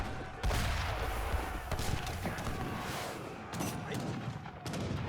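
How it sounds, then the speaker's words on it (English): Rockets firing and exploding in an Age of Empires III battle, a dense, continuous barrage of booms and crackling impacts with sharper blasts around the middle and near the end. "Rockets are coming in"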